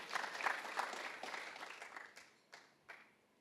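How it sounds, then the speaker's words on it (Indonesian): A church congregation at GBI Gilgal Manado claps for a moment, with scattered applause fading out into a few last isolated claps, fairly soft and reverberant. "Tepuk tangan buat orang."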